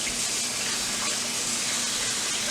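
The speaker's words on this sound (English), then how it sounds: "We like to give our produce a good rinse" Tap water streams steadily and softly while produce such as nectarines and tomatoes is rinsed under it, a continuous even hiss with no talking.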